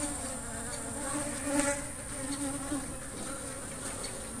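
Small black Asian honey bees (Apis cerana) at a bee farm buzz in a steady, close drone with a high whine above it, continuous throughout with slight swells in loudness.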